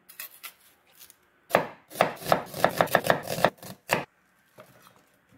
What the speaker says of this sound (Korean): 양파 반 개를 썰어줍니다.